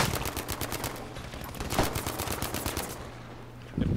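Hip-fire gunshots from a rifle in a Battlefield V firefight crack in fast continuous bursts, loud and close, with a steady low hum beneath and a short pause near the end.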